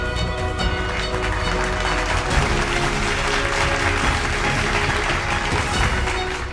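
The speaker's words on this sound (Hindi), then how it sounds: "जोरदार तालियां आप सभी की यहां पर होनी चाहिए" Loud, sustained applause from a large audience at a stage event in Uttar Pradesh, steady and dense for the whole stretch with some low rumble underneath.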